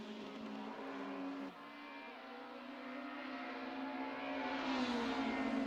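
Racing cars engines howl on a game track at Curitiba, multiple harmonic engine tones rising and shifting steadily as cars run side by side, loud and continuous with a slight dip and surge midway.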